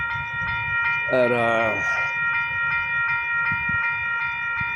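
Two trains running the same direction on railway tracks: a steady broadband rumble of railcars rolls throughout, a harmonic horn-like tone rises briefly near the start, and a voice speaks briefly over it.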